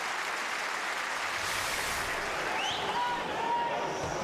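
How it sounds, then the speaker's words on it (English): Football stadium crowd at a Hearts match giving a minute's applause in tribute to a former youth player, a steady, dense wash of clapping from many hands carrying on throughout without a break. "a minute's applause to celebrate the life of former Hearts youth player Jamie Skinner"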